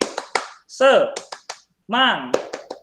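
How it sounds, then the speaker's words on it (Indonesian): A rhythmic spirit clap, tepuk semangat, performed in a classroom: sharp, close hand claps in short bursts, separated by a voice that calls out between the sets of claps. "Saya contohkan nih, tepuk semangat seperti ini."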